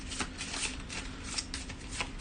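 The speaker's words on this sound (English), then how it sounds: "we shuffle the discard pile and this card together" A deck of Arkham Horror third edition cards is shuffled by hand, giving a continuous close riffling and flicking rattle with a few louder snaps.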